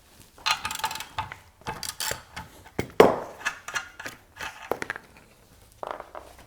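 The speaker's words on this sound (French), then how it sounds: "on va desserrer l'écrou du bas" An 18 mm wrench loosens the lower suspension nut on a Peugeot 206 RC, giving a series of close ratcheting clicks and metallic knocks in irregular bursts with short pauses.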